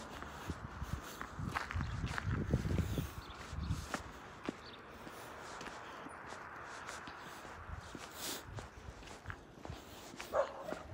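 A dog barks a few times, not far off, during a morning walk along a residential street, with footsteps and light outdoor background noise around it.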